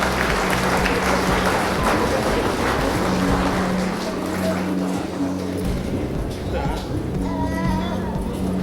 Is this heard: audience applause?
yes